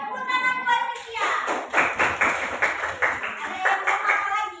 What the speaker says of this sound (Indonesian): Tepuk tangan buat Setia.